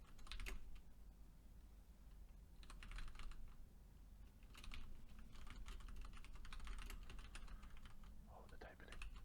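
Rapid computer keyboard typing clicks along in uneven bursts, close and fairly quiet, with short pauses between the flurries.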